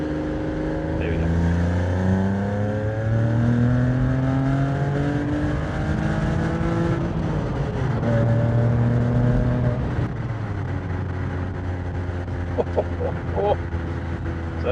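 A Porsche 987 Boxster engine pulls hard from about 30 mph, climbing through second gear and into third with a rising, steady exhaust note close up and loud throughout.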